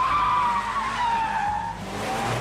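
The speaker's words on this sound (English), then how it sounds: "How hard did you stomp on those brakes? I did a U-turn." A car skids under hard braking while making a U-turn, with a sustained high tire squeal that slowly drops in pitch over a couple of seconds, loud and close, with a low engine rumble beneath.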